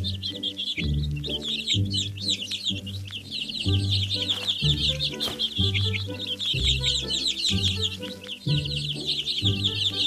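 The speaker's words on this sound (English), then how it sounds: "Let's feed the hungry baby birds with some seeds." In a children's video game, baby birds chirp for seeds in rapid, continuous high twittering over a looping, rhythmic background music track, steady and fairly loud throughout.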